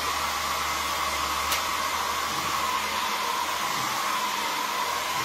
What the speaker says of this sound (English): I could always get out my blow dryer here.